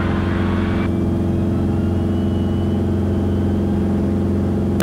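A Beechcraft Bonanza's piston engine drones at full power during takeoff, a loud steady harmonic hum from inside the cabin that runs unbroken, with a brief click at the end.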